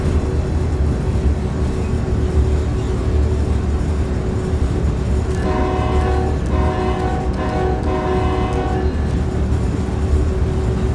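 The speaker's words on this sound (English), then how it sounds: "the sound mod also includes a new horn, which is a lot better than default." A deep, steady freight train horn in Train Sim World 3 blares over continuous low rumbling engine noise, sounding in a few sustained pulses partway through.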